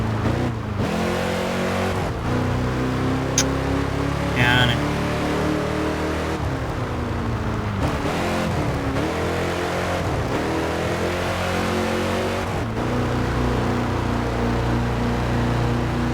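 A car engine in the racing game Test Drive Unlimited 2 drones steadily as the car drives onto dirt, a loud, constant close hum with slight shifts in pitch and a few clunks over it.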